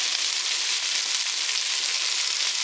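Ampalaya (bitter melon) fries in butter in a pan with a dense, even hiss of sizzling, steady and close, with no stirring or voices.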